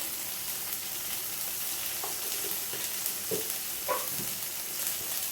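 Tomato and turmeric masala fries in a pan with a steady broadband sizzle, and a few soft stirring clinks and scrapes break in near the middle. The sound is close and moderately loud, and no one speaks.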